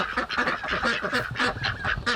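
Ducks honk and quack in a busy, continuous chorus, several birds calling over one another in quick rhythmic bursts, close and loud with no talk.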